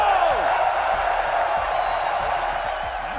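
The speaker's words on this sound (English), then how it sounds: "Keep cheering for us." A large arena crowd at the Austin Major Counter-Strike tournament cheers and whoops for the Mongols team. The roar is loud and sustained, fading slightly toward the end, with voices over it.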